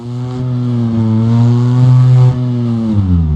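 A UTV engine in the Overpass video game revs hard at full throttle, a steady loud drone that swells and dips slightly, with no voices over it.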